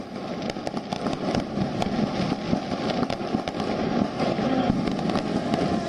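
Rapid, irregular bursts of firework bangs and crackles in the night sky during Guru Gobind Singh's Prakash Parv, overlapping one another, a dense popping barrage against a constant rumbling background.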